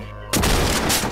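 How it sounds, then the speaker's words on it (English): Gunfire in a Five Nights at Freddy's-style video game aimed at Foxy, a sudden loud burst of shots that fills the short moment after a quieter lead-in. "Come on, Foxy. Shoot Foxy"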